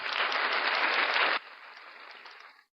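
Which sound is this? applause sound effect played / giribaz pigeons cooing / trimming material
applause sound effect played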